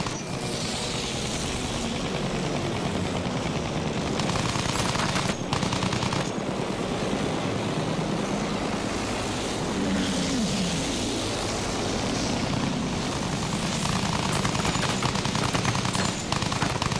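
Dense, continuous battle noise in the video game Battlefield 1, with rapid machine-gun fire and an enemy aircraft engine droning through it, loud and unbroken throughout.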